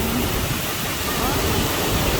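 Spring water at Bolinao Falls falling from above, a dense, steady roaring rush that fills the whole scene with constant broadband noise, close and unbroken.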